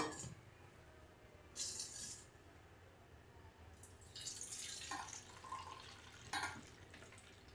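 Semolina being washed in a bowl of water: faint quiet stretches broken by a few short splashes and slurps of water being stirred and poured, close by and without talk.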